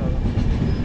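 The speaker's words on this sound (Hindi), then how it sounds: "यानी 20-22 की कॉम्बिनेशन के हिसाब से हमारी ट्रेन रवाना हो रही है।" A passenger train with general-class coaches pulls out, a steady loud low rumble of wheels and carriages filling the short moment without voices.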